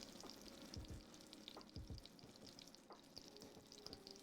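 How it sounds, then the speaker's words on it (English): Veal sizzles in a hot frying pan with a constant crackling hiss, broken by sharp pops and spatters from the splashing fat. The sound is close and steady, with no voices. "I'm talking louder because it's splattering at me."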